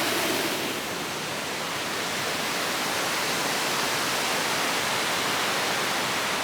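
Rushing water flows along the rapids boat ride at Chessington theme park, a loud, steady broadband hiss and roar that holds constant throughout with no voices.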